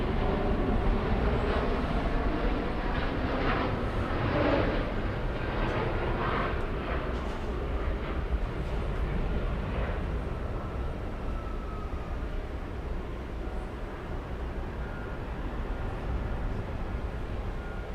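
A Royal Jordanian airliner takes off at JFK airport, a loud steady jet engine roar with deep rumble that holds throughout and eases slightly toward the end, heard from a distance.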